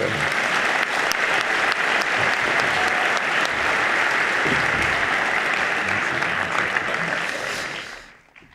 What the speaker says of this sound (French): Peut-être on va l'applaudir